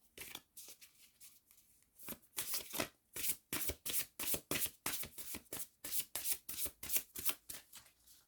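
Tarot cards shuffled by hand before a draw, a quiet riffling start followed by a long run of brisk, evenly spaced slaps and flutters, close and alone with no talking.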